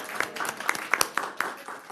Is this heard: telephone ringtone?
no